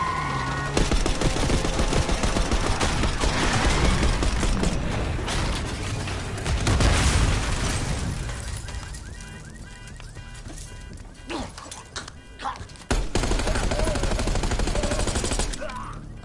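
Gunfire in the Black Ops 6 campaign comes as dense, loud bursts of rapid shots mixed with mechanical clatter and game sound, easing off in the middle before picking up again, with occasional voices.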